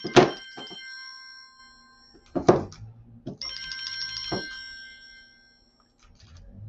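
A telephone rings indoors during a jewelry-making session, its bright repeated bursts at a moderate distance separated by quieter pauses and soft thumps.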